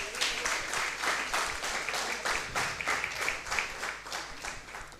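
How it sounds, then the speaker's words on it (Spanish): Church congregation at an Easter service clapping together in a steady, rhythmic beat, moderately loud and evenly paced with no voices. "Démosle un fuerte aplauso a nuestro Dios."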